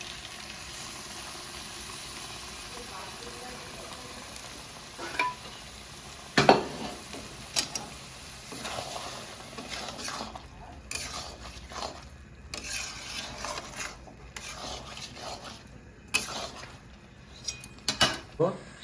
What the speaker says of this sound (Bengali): সিদ্ধ হয়ে গেছে মটরটা মিশিয়ে দেবো